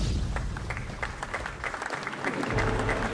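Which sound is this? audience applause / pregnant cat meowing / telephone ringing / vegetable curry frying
audience applause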